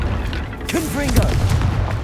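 A Confringo fire-blast spell explodes in Hogwarts Legacy, a heavy booming burst amid game noise while a voice talks over it.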